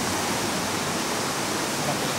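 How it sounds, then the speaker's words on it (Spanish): The flooding Yanuncay river in Cuenca, Ecuador rushes past in a steady, dense roar of swollen water, loud and unbroken throughout with no voices. "aquí estamos presenciando la crecida del río de Aruncay"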